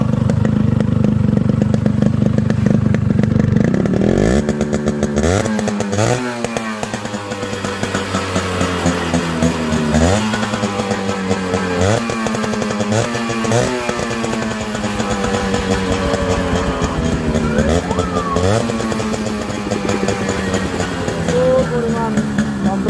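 A modified Yamaha RX 100 two-stroke motorcycle with a rebuilt cylinder and piston, heard up close as a loud, raspy engine that idles and then revs repeatedly in sharp rising bursts, running continuously throughout.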